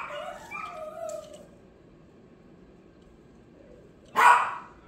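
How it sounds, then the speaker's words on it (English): A single sharp bark from a male dog rings out near the end after a stretch of quiet room tone, with some faint whining or yelping earlier, the dog excited by a female dog in heat. "That's the barking y'all hear."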